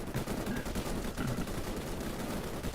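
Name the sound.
machine gun firing in a video game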